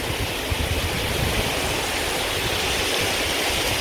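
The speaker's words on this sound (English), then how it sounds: "There is a waterfall also, but we can't go." A waterfall near Siachen Bridge in the Nubra Valley of Ladakh, feeding the Siachen River, makes a continuous broad rushing roar of falling water, steady and fairly near, with no voices.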